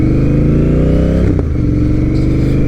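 A Honda Rebel 1100 motorcycle with a TBR exhaust and the silencer insert fitted rumbles loud and close, its deep idle briefly blipping and dipping before settling back to a steady throb.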